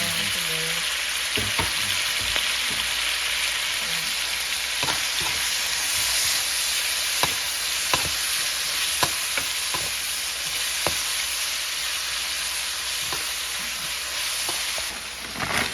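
Garlic and tomatoes sautéing in a pan for a mung bean stew, with a loud continuous sizzle close up and sharp spatula clicks and scrapes against the pan at irregular intervals.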